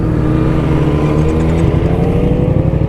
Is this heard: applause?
no